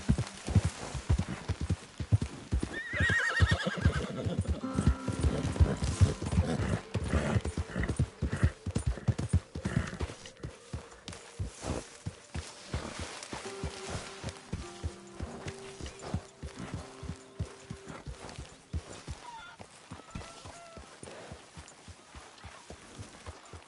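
Horse hooves clip-clop in a steady, fast rhythm in Red Dead Redemption 2, louder at first and then easing to a slower gait, with a brief whinny early on and faint tonal game sounds beneath.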